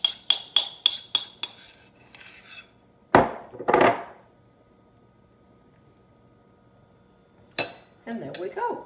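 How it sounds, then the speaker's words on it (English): Utensil scraping the last bit of potato salad from a bowl, with a quick run of sharp clinks and taps, a couple of louder scrapes, then a final clank and a short rustle. "scrape this last bit out here"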